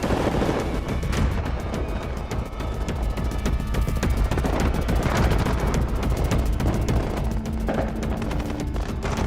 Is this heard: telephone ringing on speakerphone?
no